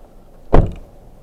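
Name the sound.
door not closing all the way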